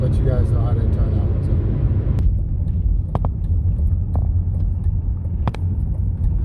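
A car driving on the road on its way to an emissions inspection after a do-it-yourself catalytic converter replacement, a steady low engine and road rumble throughout, with a few brief clicks and knocks.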